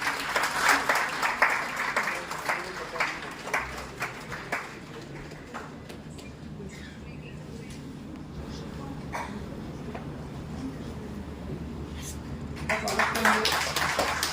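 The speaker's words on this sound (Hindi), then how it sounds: "एक बार जोरदार तालियों से इनका स्वागत।" Applause from a crowd at a national conference in India, loud bursts of clapping at the start that fade into steady murmuring, then rise again near the end.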